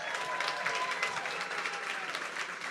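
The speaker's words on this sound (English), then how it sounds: "One more round of applause," Audience at a paper fashion gala applauding, a steady wash of clapping with a few whoops, moderately distant and unbroken for a few seconds.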